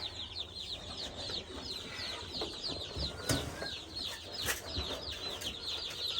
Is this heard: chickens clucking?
yes